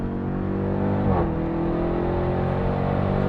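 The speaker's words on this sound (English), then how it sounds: "Start squeezing on the gas" A 2021 Dodge Durango SRT Hellcat on a race track, its engine roaring close and loud as it accelerates, with a brief dip in pitch around a second in like a gear shift before the drone climbs again.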